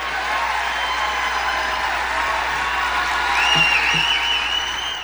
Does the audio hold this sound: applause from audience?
yes